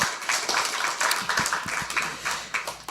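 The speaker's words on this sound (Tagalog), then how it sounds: "Isang malakas na palakpak para kay Lord." A small congregation claps in praise, a brisk, close patter of hands at an uneven rhythm that lasts a few seconds with no voices over it.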